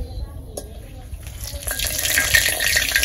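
A bay leaf hits hot oil in a heated wok on a village cooking fire, giving a soft sizzle that builds and brightens over a few seconds, with faint stirring scrapes underneath.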